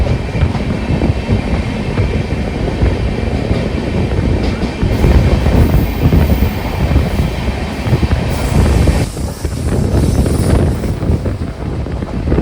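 The Raptisagar Express rolls through Varkala Sivagiri station without stopping, a loud continuous rumble of carriages with rhythmic wheel clatter and buffeting wind against the microphone.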